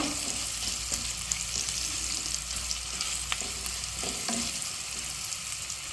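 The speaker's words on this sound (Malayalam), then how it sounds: "ഇതിലേക്ക് കുറച്ച് തേങ്ങാക്കൊത്ത് ഇട്ട് കൊടുക്കാം. ഒന്ന് ഇളക്കി കൊടുക്കുക." Coconut pieces frying in oil and being stirred for Kerala-style breadfruit upperi: a constant dense sizzle with occasional scraping stirs, close and steady, no voices.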